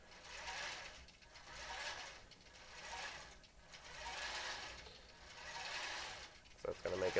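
Computerized quilting machine stitching out a pantograph pattern on a Lone Star quilt, a steady mechanical whir that swells and eases in repeating passes, close and moderately loud, with clicks and a brief rattle near the end.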